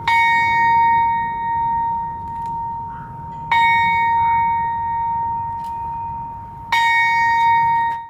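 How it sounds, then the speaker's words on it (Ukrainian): Traditional memorial bell tolling in Ivano-Frankivsk, three loud ringing strikes about three seconds apart, each leaving a long sustained hum over a low background rumble. "в Івано-Франківську пролунав традиційний дзвін пам'яті, щоб згадати тих, хто віддав життя за країну"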